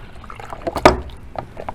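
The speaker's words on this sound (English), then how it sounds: "I'm putting the water and golf ball in here." Water poured into a container holding a golf ball, a brief splashing gush in the middle of the clip with light trickles and drips around it, close and fairly quiet.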